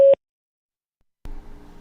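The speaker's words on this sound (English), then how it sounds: "Please leave a message after the tone." A single short electronic voicemail beep sounds on a phone line, clean and loud, followed by about a second of silence before a low line hum and faint noise begin.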